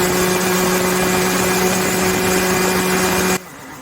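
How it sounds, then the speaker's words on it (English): A go-kart engine runs flat out along the back straight of a karting track. It holds a loud, close, steady high-pitched drone with an unchanging tone, then cuts off abruptly near the end. "Now I'll give you a listen up this back straight. You can hear pretty much the point when it maxes out."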